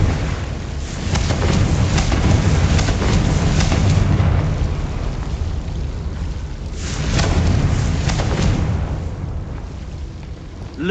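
A fiery blast spell from the Hogwarts Legacy video game, a loud, sustained roaring burst that swells, eases off and then surges again.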